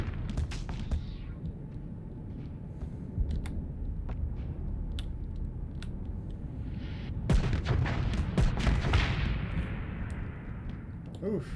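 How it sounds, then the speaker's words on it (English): A torpedo launches in the space combat game Starsector amid a barrage of booming weapon fire and explosions, sharp blasts scattered over a low rumble with a heavier burst near the end. "there goes that torpedo"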